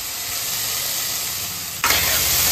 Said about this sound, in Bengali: এবার এটাকে নাড়াচাড়া করে ভাজা ভাজা করে নিতে হবে।